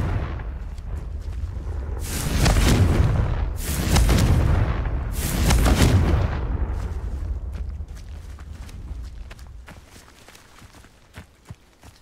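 Confringo blasting spells explode in the video game Hogwarts Legacy: three loud, booming blasts in quick succession, each with a roaring rumble that fades into crackling debris and light clicks.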